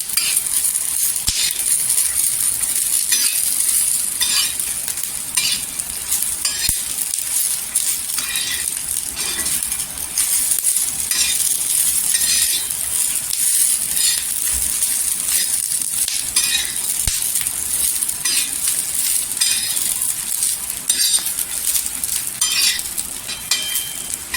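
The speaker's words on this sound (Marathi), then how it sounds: "इथे कोथिंबीर घेतलेली आहे ती पण तेलावर परतून घ्यायची" Coriander sautéing in oil gives a constant bright sizzle, broken by frequent light clinks and scrapes of a utensil stirring the pan.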